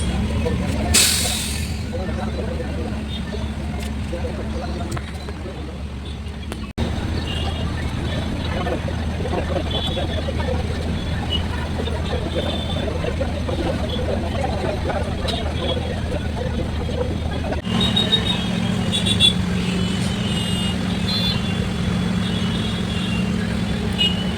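Steady road traffic with cars and buses passing, a continuous low engine rumble and hum with occasional air-brake hiss, heard from inside a vehicle for the whole stretch.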